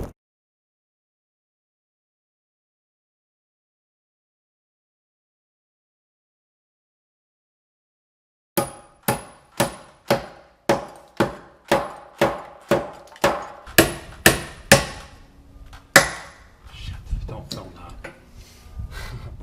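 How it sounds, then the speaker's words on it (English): Nails hammered into a new wooden header beam above a rotted opening, a long run of sharp, evenly spaced blows after several seconds of silence, ending in looser knocks and handling noise. "we nailed our top cripples down to our new header"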